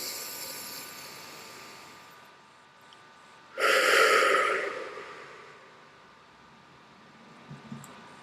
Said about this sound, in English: So let's take a deep breath and just feel connected